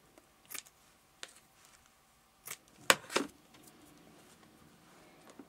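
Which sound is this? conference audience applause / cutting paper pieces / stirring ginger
cutting paper pieces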